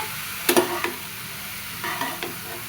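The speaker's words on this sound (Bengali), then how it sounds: "ভালো মতো লাউটা মিশাই নেব লবণ দিয়ে" Bottle gourd being stirred with salt in a hot frying pan: a few scraping stirs with soft sizzling, a cluster near the start and another pair later, over a steady low background.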